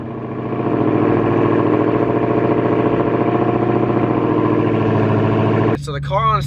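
Cold-started Dodge Hellcat with deleted resonators idles loud and steady, a dense low rumble that holds evenly for several seconds before a brief shift near the end.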